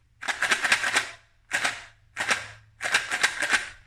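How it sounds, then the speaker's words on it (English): A homemade shaker made from two taped yogurt pots filled with pasta rattles in four quick bursts of crisp, dry clattering, close up with short pauses between. "here I took two yogurt pots, and I've put some pasta inside, and then I taped it all around"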